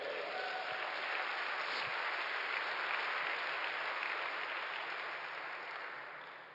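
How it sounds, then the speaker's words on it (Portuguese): A church congregation at a Sunday service breaks into sustained, dense applause, loud and even throughout before gradually tapering off at the end. "Quem recebe isso, dê um aplauso ao Senhor."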